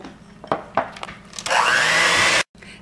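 An electric mixer beats an egg into chocolate cookie dough, a loud, steady whir lasting about a second and cutting off abruptly, preceded by a few knocks and clatters of bowl handling.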